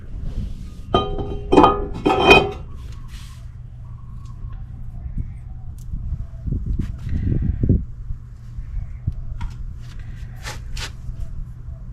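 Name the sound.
brake rotor being fitted on a 2008 Acura RSX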